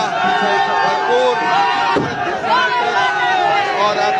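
Fireworks and a cheering crowd at a street celebration of India's World Cup victory at Venus Mod: steady loud voices and shouting, broken by one sharp firecracker bang about midway.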